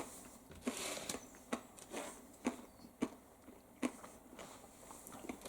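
Candied bacon crumbs glazed with maple and honey are chewed close up, giving a series of quiet, irregular crunches against a hushed background.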